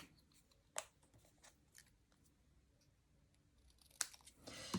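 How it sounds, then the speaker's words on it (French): Scissors snip a paper strip with a few sharp, faint cuts spaced apart, the last cut followed by a brief crinkle of paper in a quiet room. "Je vais prendre ma paire de ciseaux, bien sûr, et ajuster la longueur."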